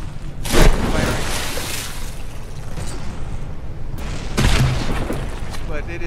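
Battleship guns firing shells in the naval combat game From The Depths, two heavy booms spaced a few seconds apart over a rumbling battle background.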